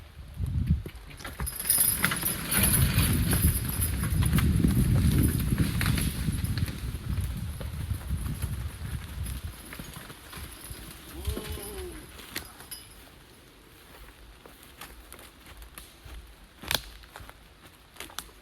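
Horses skidding a felled hard maple log clop along steadily in the woods, hooves thudding under a broad rumble of dragging and movement that fades later, with birds and jingling harness audible.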